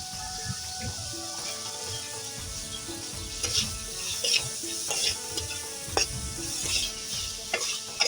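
Spiced masala with chopped tomato and salt sautéing in a pan for a rohu fish curry, a steady sizzle with repeated stirring scrapes and clinks, moderately close and continuous.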